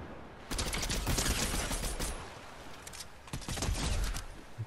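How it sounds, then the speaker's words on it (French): Gunfire in Fortnite: dense, continuous rattling bursts of automatic shots, steady and moderately loud, with a short pause before another volley. "Ça tire de partout."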